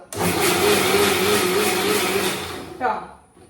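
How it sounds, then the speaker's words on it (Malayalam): A blender grinds a coconut mixture with sugar, its motor whirring loudly and steadily for a couple of seconds before winding down and stopping. "ഇത്രയും പഞ്ചസാര ഈ തേങ്ങാ കൂട്ടിലേക്ക് ചേർക്കുക എന്നിട്ട് ഒന്നും കൂടി അടിച്ചെടുക്കുക"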